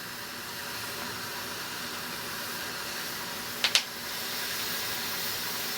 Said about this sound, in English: the first step of my pressure cooker anyway is this lock is going to seal